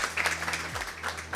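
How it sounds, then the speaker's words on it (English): An audience at a World Ocean Day youth summit panel claps, a moderately loud, uneven patter of hands with a low tonal hum running underneath. "A round of applause"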